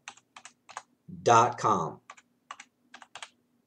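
Light clicking on a computer keyboard while setting up an email account, scattered short bursts of keystrokes before and after a brief stretch of speech.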